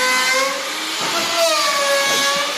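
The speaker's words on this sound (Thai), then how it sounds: "อันนี้ก็คือช่างกำลังเจาะเราเตอร์นะคะ" A router bores into pallet wood to make chair parts, giving a loud, steady, high-pitched whine with shifting pitch in a workshop.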